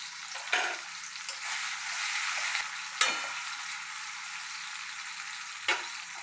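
Onions fry in a pan, browning in hot oil with a steady soft sizzle up close, interrupted three times by short scraping bursts of stirring, and no voices.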